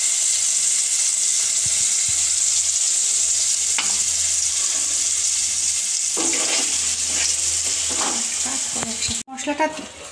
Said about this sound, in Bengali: এবার এই কড়াইতে তেল যে আছে এর ভেতরেই মশলাটাকে দিয়ে দেব।